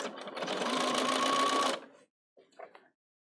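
A Bernina 770 sewing machine stitching binding onto a quilt, with a loud, fast, steady motor whir lasting under two seconds that stops abruptly, followed by faint handling sounds.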